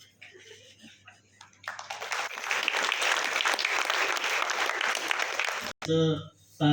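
Loud applause from a crowd at a political campaign event honouring guests, swelling suddenly after quiet talk and holding as a dense clapping roar for several seconds before cutting off, followed by speech and laughter.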